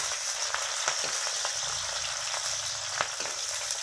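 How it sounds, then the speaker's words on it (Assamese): Onions frying in oil until browned, a continuous close sizzle with scattered pops and spatters and a few louder crackles, steady throughout with no voices. "পিঁয়াজখিনি মই ৰঙা হোৱালৈকে ভাজি লওঁ।"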